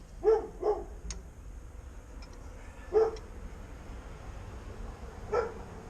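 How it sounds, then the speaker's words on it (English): A dog barks faintly in a quiet garage: two quick barks together, then two more single barks spaced a few seconds apart. "Rod, stop barking."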